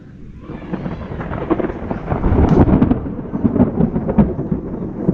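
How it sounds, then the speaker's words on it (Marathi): Loud, rolling thunder rumbling close overhead during heavy monsoon rain in the Konkan countryside, swelling over several seconds and sustained throughout. "विजा कडाडत आहेत जोरदार एकदम."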